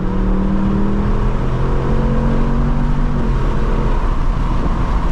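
A 2024 Ford Mustang GT V8 pulls hard after a downshift to fourth, its engine droning loud and close with a rising, steady roar under road and wind noise, no voices present.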